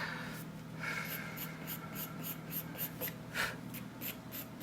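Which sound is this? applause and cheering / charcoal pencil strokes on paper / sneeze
charcoal pencil strokes on paper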